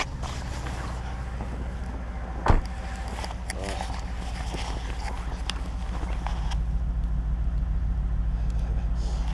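A Brabus B11 Mercedes W220 S500 5.0 V8 idles steadily in the cold after starting at minus six degrees, a deep constant rumble with a sharp knock early on, close and continuous.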